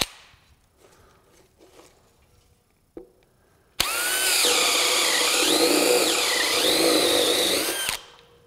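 A DeWalt DCD999 cordless drill drives a screw into wood, starting with a few faint clicks and then a loud, sustained whine of about four seconds whose pitch wavers as the motor loads up before stopping abruptly.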